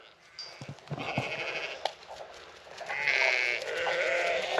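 Sheep bleat in a farm paddock, several loud, wavering calls up close, the last one drawn out and overlapping another.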